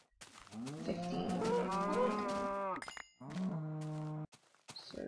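A cow in the video game Minecraft moos twice, a long loud low bellow followed by a shorter second moo, close and clear with no talking.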